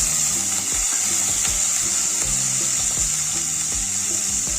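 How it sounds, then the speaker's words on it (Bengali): Shrimp sizzling in hot mustard oil in a kadai: a steady, bright frying hiss runs throughout, with faint low clinks and background tones underneath. "চিংড়ি মাছটাকে ভেজে নেব।"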